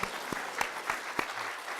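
A short burst of clapping from a church congregation, sharp irregular claps ringing out in a reverberant room.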